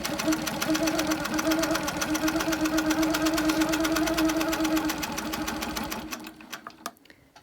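A sewing machine stitches across a quilt along a ruler line, running in a fast, steady mechanical rattle for about six seconds before slowing and stopping with a few faint clicks.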